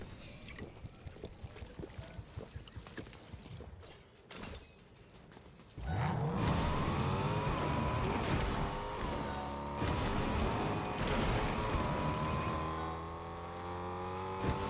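A vehicle drives in Fortnite Zero Build, with a steady engine drone that swells loudly after a stretch of rattling, clicking footsteps and movement, then holds as a continuous rumble with changing pitch.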